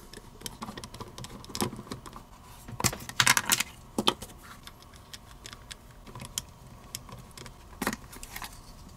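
Grip panels are unscrewed from a Beretta 92 pistol, giving faint, close metallic clicks and small scraping taps at irregular intervals, with a few louder handling knocks over a quiet background.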